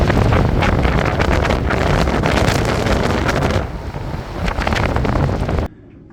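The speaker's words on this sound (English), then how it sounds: "This wind is relentless." Strong wind roars across a microphone on a sailing boat, a loud, steady buffeting rush with water noise that eases slightly toward the end before cutting off.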